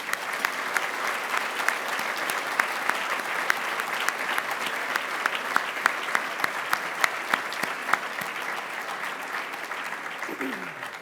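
Audience applause at a press awards dinner, a dense sustained round of clapping from a large room with distinct sharp claps standing out, continuous throughout.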